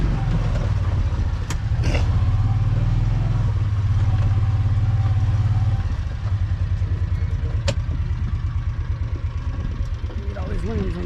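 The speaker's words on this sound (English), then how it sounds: "Tractor back here doing some work, as y'all can tell." A tractor engine runs steadily in a farmyard during chores, a low continuous mid-pitched drone with some clatter that shifts in tone partway through, close and fairly loud.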